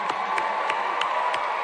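A crowd at a political rally in Minneapolis claps and cheers for the band's new drummer, a steady wash of applause with a few sharp accents, fairly loud and close.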